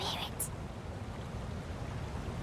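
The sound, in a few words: river flowing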